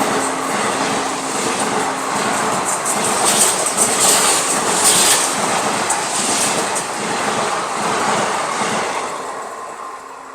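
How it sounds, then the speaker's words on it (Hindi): Gorakhpur LTT Mumbai Express rolling slowly along a single electric line, a steady close rumble of wheels and carriages with faint clatter and rising hiss that swells in the middle, then eases off toward the end. "उसी पे अपनी ट्रेन चल रही है।"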